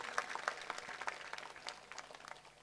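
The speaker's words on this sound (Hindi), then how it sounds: "तो एक बार जोरदार ताली बजाओ" Audience at a live bhajan evening for Balaji Maharaj in Rajasthan: a burst of scattered hand clapping, fairly faint and distant, with uneven claps that thin out over a few seconds.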